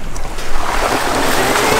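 Rushing river water at a motorcycle trail river crossing, a loud broadband wash of flowing water mixed with gusting wind buffeting the microphone.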